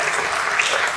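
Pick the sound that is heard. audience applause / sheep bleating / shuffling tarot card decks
audience applause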